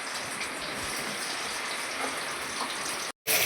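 Running water from a tap gushing steadily over freshly cut food being washed, loud and close, with a brief cutoff near the end before the flow resumes.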